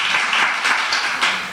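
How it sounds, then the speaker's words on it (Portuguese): A church congregation applauding to welcome visitors during a service: steady, dense clapping from many hands filling the room, loud and even without a break. "Dá uma salva de palmas"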